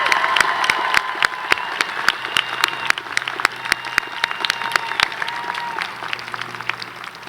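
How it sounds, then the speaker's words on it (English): A graduation crowd at a 2016 California State University Northridge commencement applauds a student, with distinct sharp hand claps standing out over a softer, steady wash of clapping that slowly thins toward the end. "Please give a round of applause for Alvaro Castillo"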